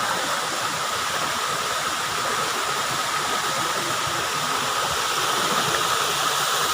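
A tall waterfall in a virgin forest roars steadily and close by, a dense, unbroken rush of falling water that holds even from start to finish with no voices over it.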